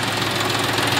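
A new John Deere 5105 40 HP tractor engine runs at a steady idle, a loud, close, continuous diesel rumble with a rough knocking texture and no voices.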